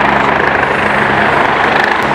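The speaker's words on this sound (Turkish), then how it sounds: "Şuradaki hastanenin hemen çatısına medical helikopter konacak." A red medical helicopter comes in to land on a hospital roof, its engine and rotor roar loud and continuous, a steady broadband mechanical drone close by with no speech.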